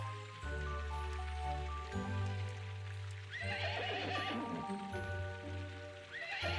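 A horse whinnies with a rising, harmonic neigh over a steady low hum, followed by the hollow clip-clop of hooves that continues through the rest of the clip.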